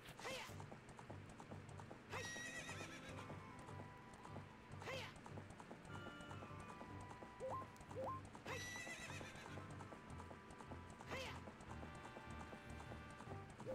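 In The Legend of Zelda: Ocarina of Time, a galloping horse's hooves clip-clop in a steady rhythm, broken by several loud, clear neighs spaced through the run.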